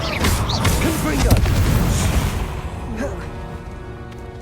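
A Confringo blasting spell explodes in Hogwarts Legacy with a heavy boom and crackling burst that peaks then tails off, mixed with a voice and game sounds.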